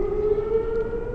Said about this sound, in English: an ambulance started its siren about a couple blocks before